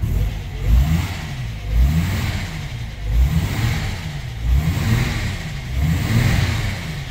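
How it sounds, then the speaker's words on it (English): A 1949 Armstrong Siddeley Lancaster's engine, first started in a year, revs up and down in steady repeated swells, loud and close, with no talking. "So I'm just going to rev her a bit."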